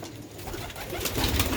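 Sialkoti black-faced pigeons cooing, a low continuous throaty murmur from birds close by, with no talking.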